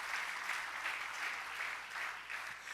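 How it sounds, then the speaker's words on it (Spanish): A church congregation claps steadily and continuously for a few seconds, a dense even patter of applause at moderate distance. "Dele un buen aplauso a Jesús por eso."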